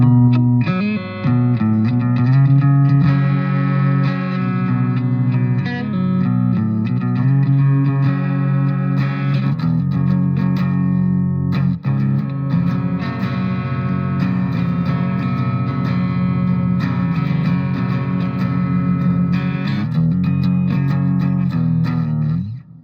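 A Jackson JS22 Dinky electric guitar played through the neck pickup with a clean tone, sustained strummed chords and ringing notes, continuous and loud with no voices.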